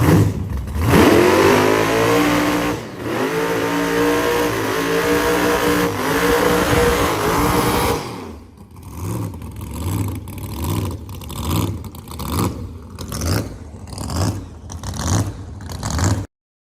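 A 1200 HP rat rod engine revs loud and close during a burnout, a sustained roar for about eight seconds that then breaks into rhythmic, pulsing throttle blips until it cuts off.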